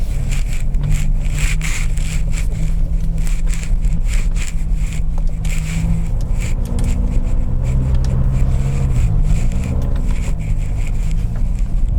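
A Ford Ranger Wildtrak pickup's diesel engine rumbles steadily from inside on an off-road course, low and loud, with rattling and bumping over rough ground and subtle shifts in engine pitch.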